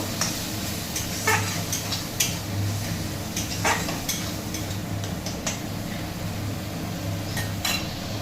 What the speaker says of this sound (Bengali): এইটা দিয়ে আবার মশলাটাকে ভালো করে কষিয়ে নেব